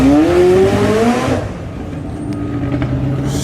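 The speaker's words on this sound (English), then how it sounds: "that's that C7 with a big ass turbo on the front" Turbocharged Corvette C7 revving hard at a car meet, a loud nearby engine note climbing in pitch for over a second, then dropping away to a lower rumble with faint background noise.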